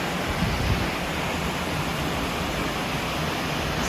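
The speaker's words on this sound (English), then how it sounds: "this is where it's just flowing out of the dam" Water pours out of a dam into the river below in Portugal, a constant broadband rush that stays steady and full throughout with no voices.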